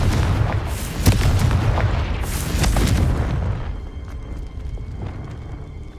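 A Confringo blasting spell in the Hogwarts Legacy video game sets off heavy rumbling explosions, with several booming bursts in quick succession that roll out and fade into a quieter ambient tail.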